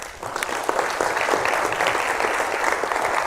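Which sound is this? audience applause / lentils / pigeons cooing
audience applause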